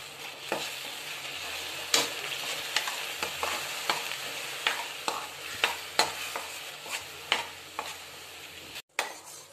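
Sugar syrup for sesame laddoos sizzles and bubbles steadily in a pan while a utensil stirs and taps against it in irregular strokes, fairly close and moderately loud.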